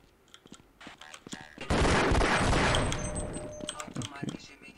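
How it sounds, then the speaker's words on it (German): In the video game Half-Life a grenade blows up, a sudden loud blast that swells and slowly fades with rumbling debris, amid scattered gunfire and game effects before and after. "das scheint eine Granate gewesen zu sein, die ich nicht bemerkt habe"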